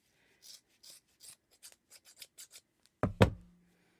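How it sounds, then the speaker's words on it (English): A series of short, crisp scissor snips cut through thick yarn at an even pace, followed by two heavier thuds, quiet and close. "This is pretty thick yarn, so you need your really good scissors."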